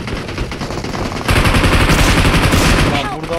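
Rapid automatic gunfire from the mobile battle royale game PUBG Mobile crackles loudly and continuously, growing denser and heavier partway through, with sharp burst after burst.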